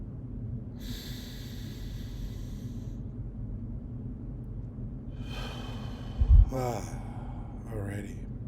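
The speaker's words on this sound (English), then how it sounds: "So take a couple deep breaths." Deep breaths taken slowly and audibly up close: a long inhale, a pause, then a further drawn breath and exhale with a brief thump in between.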